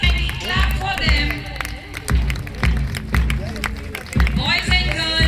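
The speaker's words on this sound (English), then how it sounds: "I request everyone to kindly clap for them." Crowd at a school annual athletic meet clapping as athletes march past the saluting base, rhythmic claps and cheering under loud music with a steady thumping beat, mixed with talk.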